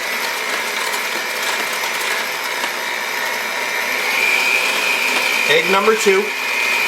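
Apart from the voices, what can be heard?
mixer mixing muffin batter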